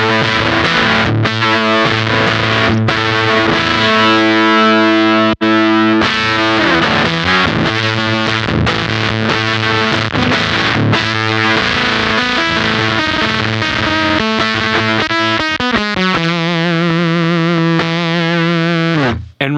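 An electric guitar runs through a Cat Box Customs Bean Machine fuzz pedal, a Harmonic Percolator-style circuit, on its low gain setting with the fuzz near 75%, giving loud, sustained, clangy, gated chords that are strummed and held, then a rapid run near the end.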